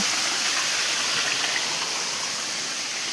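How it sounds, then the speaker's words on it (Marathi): Water from a well rushes forcefully out of a pipe in the countryside, giving a loud, steady, close gushing roar that does not let up. "आता हे पाईप लावून वरती वाप्यातनं पाणी घेतलेला तर पाणी एकदम फोर्सने"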